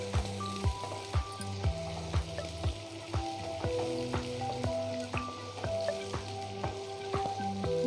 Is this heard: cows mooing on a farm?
no